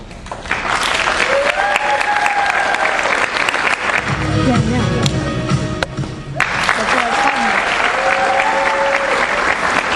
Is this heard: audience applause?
yes